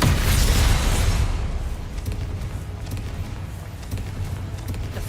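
Spell explosion from the Confringo fire curse in Hogwarts Legacy, a loud broadband burst at the start that decays into a rumbling wash of game ambience and scattered thuds.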